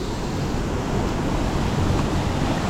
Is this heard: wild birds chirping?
no